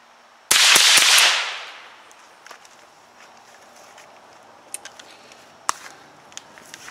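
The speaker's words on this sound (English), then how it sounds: "So we're going to check this out and see how it shoots." A single loud rifle shot from a Henry survival rifle cracks nearby outdoors and rings out briefly, followed by faint clicks and handling noises.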